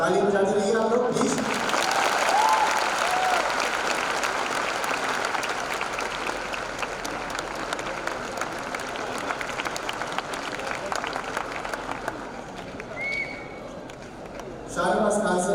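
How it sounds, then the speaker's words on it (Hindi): A hall audience keeps clapping at a teachers' honouring ceremony, a dense sustained round of applause that holds steady and then fades out near the end, with a voice heard at the start and close. "ताली बजाते रहिए आप लोग प्लीज"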